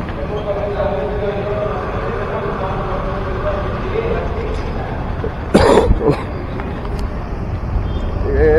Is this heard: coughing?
yes